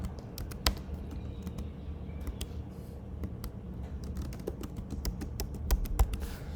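Typing a username on a computer keyboard during a login, a steady stream of light, crisp key taps heard close up with no talk over it.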